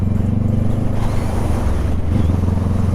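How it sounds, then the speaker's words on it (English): Strong wind roars and buffets the microphone while a motorcycle rides along, a steady low rumble filling the whole stretch with a few muffled voices underneath. "This wind is blowing"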